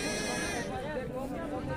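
A goat bleats at a busy rural livestock market in Gidhauri, calling out over a steady crowd of chatter and voices nearby.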